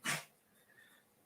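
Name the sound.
cat sneezing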